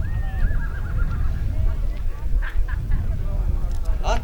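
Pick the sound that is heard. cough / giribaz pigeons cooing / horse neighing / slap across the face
horse neighing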